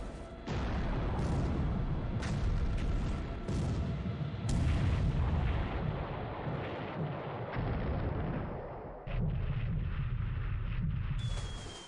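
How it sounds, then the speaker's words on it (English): Torpedo hits in the naval wargame War in the Pacific: Admiral Edition strike during a 1942 carrier battle. Heavy, rumbling blasts roll on continuously and loudly, with a few sharp bursts, and no one talks. "Hit but no explosion. Oh yeah, that was a torpedo."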